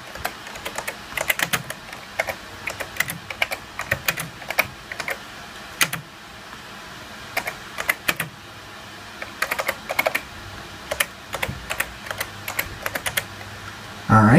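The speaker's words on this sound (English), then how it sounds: "So let me go ahead and type the command." Fingers type a command on a computer keyboard while flashing the ROM of an nVidia GeForce 8800GT/GTS graphics card for a Mac Pro, in close, quick bursts of clicking keystrokes separated by short pauses.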